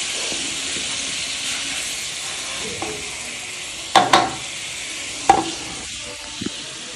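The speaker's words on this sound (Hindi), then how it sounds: "इसको चम्मच लगाते हैं तो घी के अंदर भुने से मिक्स करते हैं" Food roasting in ghee is stirred with a spoon, giving a steady hissing sizzle with a couple of sharp clanks of the spoon against the pot, close up and without speech.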